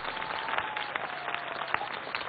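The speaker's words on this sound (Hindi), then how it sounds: "सारण की जनता के लिए जोरदार तालियां हो जाएं" Crowd applause from the public at a televised political discussion event in Saran, a continuous wash of many hands clapping at an even level, fairly loud and unbroken.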